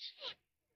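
A cartoon character in the Naruto anime, dubbed in Tamil, gives one quick, sharp sneeze in two bursts, then silence follows.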